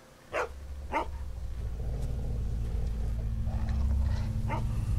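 Dog barking several times, sharp barks spaced through the clip over a loud, steady low rumble like an engine or vehicle, with no talk.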